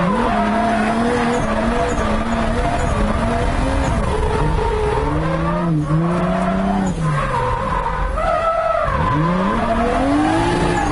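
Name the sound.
turbocharged 2JZ 240SX drift car spooling and tires skidding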